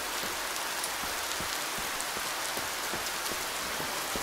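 Rain falls in the zombie survival game INCUR Survival, a steady dense patter of drops on surfaces that continues evenly throughout with no talk.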